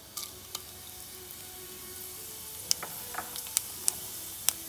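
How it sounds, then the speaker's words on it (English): Green cardamom, peppercorns, cinnamon stick, fennel and cumin seeds frying in hot oil make a steady low sizzle, broken by several sharp pops and crackles spaced through the clip. "So the oil is hot, so let's add this whole masalas."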